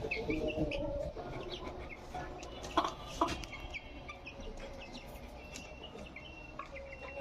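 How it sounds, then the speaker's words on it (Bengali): Broiler chickens on a farm cluck softly while pecking at feed, a steady low chorus of fowl with a few sharper calls, faint insect chirping in the background and no talk. "এই মুরগিগুলোর খাবার দেওয়া হয়েছে আবার একটু খাবার দেবো"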